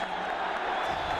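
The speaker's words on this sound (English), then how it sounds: "Somewhat sardonic applause from the Benito Villamarín." Steady, somewhat sardonic applause from the football crowd at Benito Villamarín stadium, Betis versus Atlético Madrid, rolls on continuously, a dense wash of clapping and crowd noise at moderate distance.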